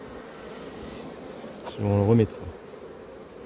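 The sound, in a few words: honey bees buzzing around a hive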